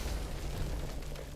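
A heavy shell fired by the giant Gustav railway cannon explodes in a sustained, deep booming rumble that fills the whole moment with dense low-end roar and no clear separate blasts.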